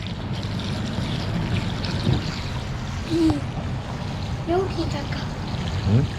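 Water runs steadily into a hotel bath, a constant trickling wash heard close with a child's and adult's voices talking over it in short bursts.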